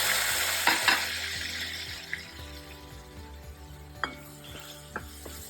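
Cranberries with turmeric, coriander powder and chili powder in a tempering stirred in a pan for dal, soft background sizzle with a few distinct utensil scrapes and clinks against the pan.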